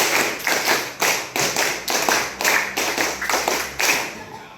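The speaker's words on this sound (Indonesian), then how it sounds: "3 kali tepuk 5." Teachers in a training session clap together in rhythm, sharp repeated bursts of group hand claps in even sets, loud and close with short gaps between each volley.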